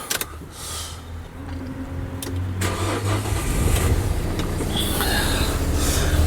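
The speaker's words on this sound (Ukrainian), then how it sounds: "Зараз заведемо машинку." A 2019 Nissan NV300 van with a manual six-speed gearbox and 213,000 km on it cranks and fires up, rising from a low rumble into a steady, close idle with no voices.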